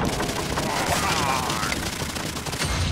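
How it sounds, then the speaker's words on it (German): An explosion in the video game Minecraft Dungeons, inside a Redstone mine, heard as a dense, loud, sustained crackling blast that fills the whole clip. "Das war eine Explosion, die die Welt erschüttert."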